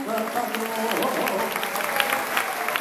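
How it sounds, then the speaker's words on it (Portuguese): Audience applauding Brazilian repentista singers João Lourenço and Luciano Leonel after a verse, a steady wash of crowd clapping with voices and faint cheering mixed in throughout. "Mais aplausos, mais aplausos."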